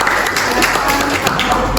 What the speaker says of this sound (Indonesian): Boleh kasih aplaus ya.